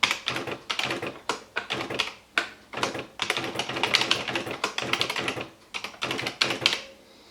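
Keys struck on an Esselte 80 electric typewriter, typed in quick, uneven bursts of crisp close clacks with short pauses between runs.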